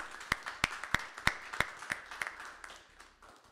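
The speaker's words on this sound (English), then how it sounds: "thank you for applauding, but applaud again, please" An audience at an evening lecture claps in a brisk burst, sharp hand claps landing in an even rhythm over a softer wash of applause that fades toward the end.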